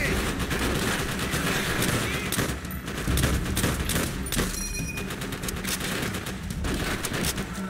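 Sustained machine gun fire in the Call of Duty: World at War game, a dense, loud fusillade of rapid overlapping shots with no pause across the whole stretch.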